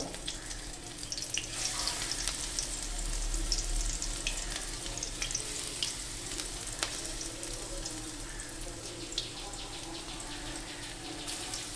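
Masoor dal fritters (lentil boras) frying in hot oil, a steady close sizzle with faint bubbling that holds evenly throughout and carries no speech.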